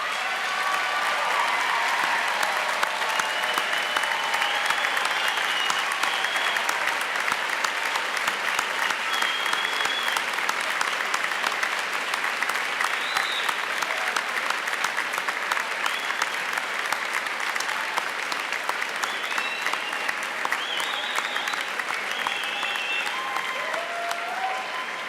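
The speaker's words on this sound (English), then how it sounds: "receive their congratulations and warm applause" Family and friends give graduates a long, steady burst of applause at a medical university commencement, many hands clapping densely and evenly throughout with no break, heard from within a large hall.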